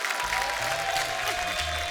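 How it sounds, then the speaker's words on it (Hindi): A studio audience on a comedy talk show bursts into loud, dense applause for arriving guests, a continuous wash of clapping and crowd noise throughout. "जोरदार तालियां सुरेश पाजी और प्रियंका भाभी के लिए।"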